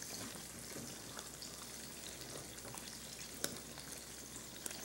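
Continuous soft sizzling and crackle of stale bread frying in a pan for lost bread, steady and fairly quiet with occasional small pops.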